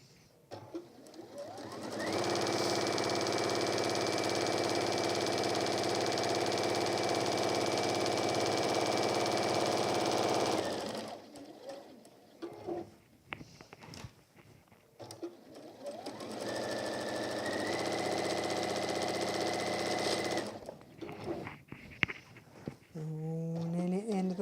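A sewing machine stitches a lined deluxe apron in two long continuous runs of steady close whirring, separated by handling noises and brief pauses, with a person speaking quietly between runs.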